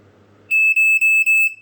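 After a faint low hum, a vintage Black & Decker Flamebuster SMK 60M3 smoke alarm beeps four times in quick, even bursts during a test, loud and piercing.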